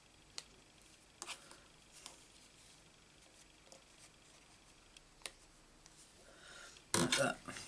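Cardstock being trimmed with a paper trimmer or scissors during a Stampin' Up card project, heard as faint scattered ticks and snips followed by a loud, brief cutting burst near the end; no talking.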